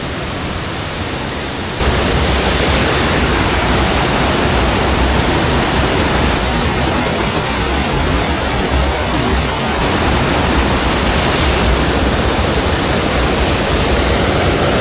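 The Reedy River in Greenville, South Carolina, rushes along in a loud, steady broadband roar of flowing water, continuous and close, with no voices over it.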